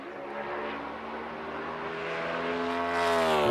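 NASCAR Cup Series race cars at WWT Raceway roaring through the corners, a loud sustained engine drone with rising pitch as several cars pass close together.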